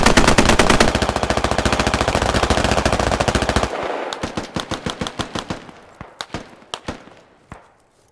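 Rapid automatic gunfire in the video game Squad, a dense close burst of shots that thins into scattered single cracks fading away.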